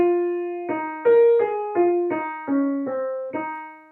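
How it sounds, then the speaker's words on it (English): Cellos in a fairly high register playing the main melody from the Offertory of Verdi's Requiem, a series of about nine sustained and detached bowed notes, close and moderately loud, with no talking. "which is going to be introduced again in the cellos, playing in a relatively high register."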